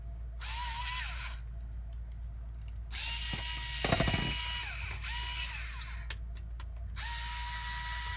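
A power screwdriver whirs in repeated close bursts while removing an aluminium TRX4-style motor mount from an RC comp crawler, with ratcheting spin-ups and small clicks between runs.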